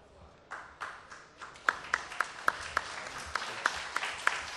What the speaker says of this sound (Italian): Vi consiglio di prolungare questo applauso